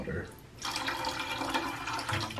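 Water running steadily into a mug, a continuous splashing hiss that starts abruptly and holds at an even level.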